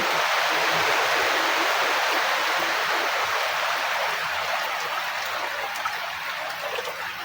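Rain falling by a lake at Situ Cileunca, a steady broadband hiss of drops on water and surroundings that stays loud and even throughout, with no voices.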